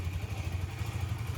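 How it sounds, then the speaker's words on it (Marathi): A KTM motorcycle engine, just started after a wash, idles with a steady low throbbing rumble, close and fairly quiet, with no talk over it. "बाईक स्टार्ट फायनली केलेली आहे"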